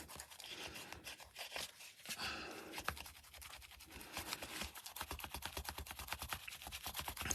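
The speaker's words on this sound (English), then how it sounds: "I'm just going to erase all those little dots" An adhesive eraser rubs steadily back and forth over paper, lifting pencil dots and marks in soft, close, repeated scratchy strokes with no talking.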